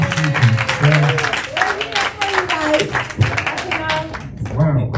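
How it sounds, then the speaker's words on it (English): An audience claps for Washington State at an event, the applause sounding close and dense under a speaking voice that carries over it. "I do want everybody give a round of applause to Washington State."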